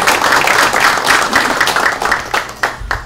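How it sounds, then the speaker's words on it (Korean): An audience at an emergency council meeting of local government heads on the MERS outbreak claps for a lawmaker, a dense, loud burst of applause that thins toward the end. "박수 한번 쳐주십시오"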